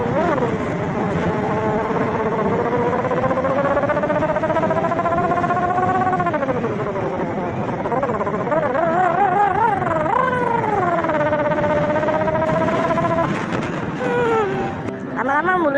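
A voice imitates a racing motorcycle exhaust with long rising and falling revving drones, loud and continuous, sweeping up and dropping several times near a bridge in Palembang.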